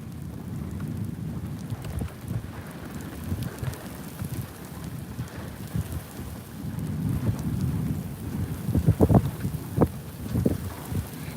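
Steady rain with gusting wind and rumbles of thunder during a warm, humid thunderstorm near a tornado's circulation in southwest Oklahoma, a continuous loud wash with rougher bursts toward the end and no voices.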